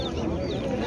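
Chickens clucking at a poultry market in Nookat, a brief dense burst of close fowl calls mixed with busy crowd voices and chatter.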